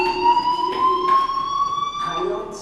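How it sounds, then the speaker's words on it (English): A fire alarm rings in the video game Life Is Strange, a steady high electronic tone that sounds continuously and fairly loud, with faint game background behind it. "Hey, do you hear that fire alarm?"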